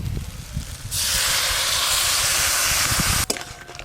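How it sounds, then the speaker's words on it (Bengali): Water poured into hot crab masala in a pan sets off a sudden loud, steady sizzling hiss that holds for a couple of seconds before cutting off, over faint kitchen clatter. "এবার পরিমাণ মতো জল দেব"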